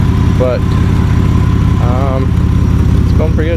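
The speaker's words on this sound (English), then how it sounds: "I've had it idling here for a while, and it's holding temperature." A Jeep WJ engine idles steadily with a constant low rumble running under someone talking throughout.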